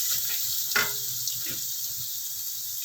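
Ginger, garlic and onion sauté in a hot pan with a steady close sizzle, broken by a couple of soft scraping stirs.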